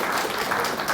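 Audience applause for a lecturer at the close of a seminar, a dense, steady wash of clapping from a roomful of people that carries unbroken through the whole moment with no voices over it.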